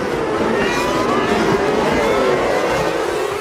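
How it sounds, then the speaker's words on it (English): Formula 1 race cars at the 2012 Indian Grand Prix, a loud continuous high engine roar that holds steady with a slight rise and fall as the cars race past. "Hamilton came back at Button"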